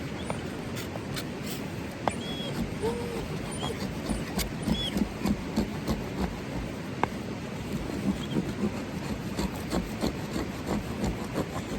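A Weyland Tracker knife shaves dry wood into tinder and sawdust, giving repeated close scraping and rasping strokes in an uneven rhythm throughout.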